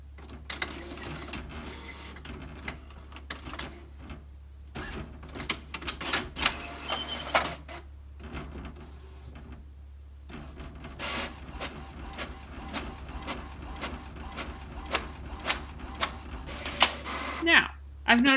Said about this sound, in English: turn up the volume just a little so we can easily hear the printer.